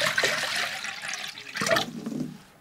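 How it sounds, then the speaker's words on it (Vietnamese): Water pouring into a basin while cooking prepares a chicken braise: a close, rushing gush in two surges that tapers off toward the end. "Chuẩn bị 1 thau nước nè"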